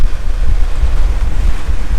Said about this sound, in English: waves are hitting me on the beam here on the starboard side